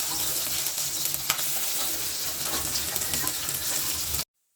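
Parshe fish fry in hot oil in a kadai, a steady loud sizzle and crackle that runs throughout, then cuts off abruptly.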